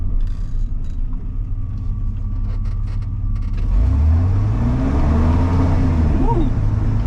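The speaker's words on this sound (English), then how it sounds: "Definitely spinning both tires." A Chevy S10 pickup, fitted with a Blazer axle, disc brakes, a locker and 3.73 gears, accelerates hard with both tires spinning on cold pavement, its engine rumbling and then rising in a loud climbing roar from inside the cab.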